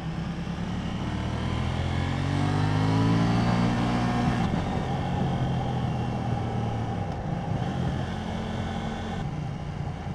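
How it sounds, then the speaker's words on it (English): A 2018 KTM 790 Duke with its stock exhaust pulls hard up close, its engine note climbing steadily and dropping through a couple of gear shifts with faint crackles, continuous and loud with no talking. "I love these little pops and that you're getting on some of the shifts, even though it's the stock exhaust."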